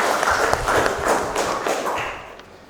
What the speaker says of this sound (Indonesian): Tepuk tangan untuk Adi dong